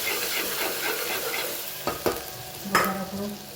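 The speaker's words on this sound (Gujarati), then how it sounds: "સરસ મિક્સ કરી દઈએ." Ground spices (turmeric, coriander-cumin powder, red chilli powder and salt) sizzle in a pan while a spoon stirs them, steady frying hiss broken by a few sharp scraping strokes, close and with no talk.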